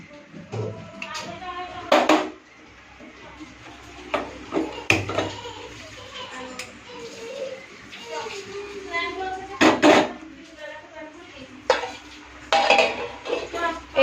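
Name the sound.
pot of marinated meat being put on the gas stove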